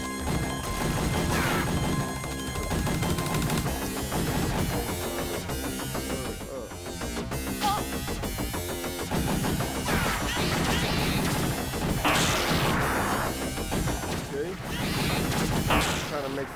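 Gunfire in the 1990 Aliens arcade game, a dense, continuous barrage of blasts and crashing hits layered over game music, with bursts swelling repeatedly throughout.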